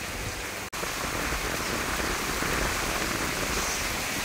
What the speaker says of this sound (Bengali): বৃষ্টি পড়ছে বন্ধুরা আজকে,